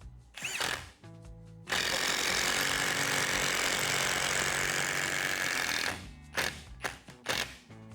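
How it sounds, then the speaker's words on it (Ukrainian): Procraft Industrial cordless impact driver at top speed driving a 240 mm long, 6 mm screw: a loud, sustained hammering buzz of about four seconds, framed by shorter bursts, clicks and handling knocks before and after. "давайте протестуємо ще декілька саморізів"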